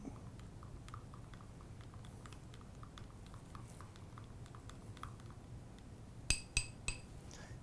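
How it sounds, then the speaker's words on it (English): Quiet, irregular scraping and soft clicking come from hair color and developer being mixed in a bowl, ending with a few sharper clinks of the tool against the container. "And now I'm going to mix this color up."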